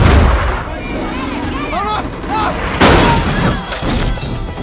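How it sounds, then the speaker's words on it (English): A thunderous crash as the ground collapses in an alien-invasion war scene, heavy booming impacts and shattering debris with whooshing sweeps, loud and layered over a dense rumbling background. "the ground collapsed with a thunderous crash, as if something was forcing its way up from underground"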